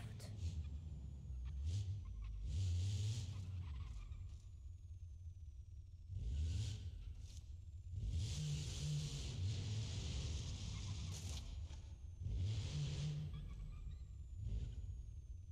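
A go-kart engine drones and revs in BeamNG.drive, rising and falling in repeated surges as the kart accelerates and lets off around a track, steady and fairly close throughout.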